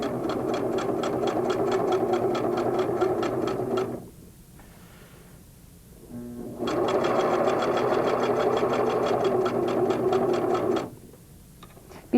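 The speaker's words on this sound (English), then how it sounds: "Place your quilt back under the sewing machine and stitch along the white chalk line." A Singer sewing machine stitches a quilt along a white chalk line, running in two steady, loud mechanical bursts of rapid needle clatter separated by a quiet pause for repositioning.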